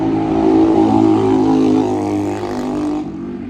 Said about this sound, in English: I am right next to a street